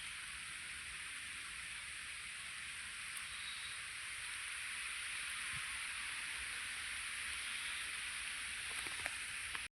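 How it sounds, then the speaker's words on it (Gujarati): Rain falling steadily outdoors near a hillside shrine, a constant soft hiss of drops with a few faint ticks, even and unbroken with no voices. "વરસાદ ચાલુ છે"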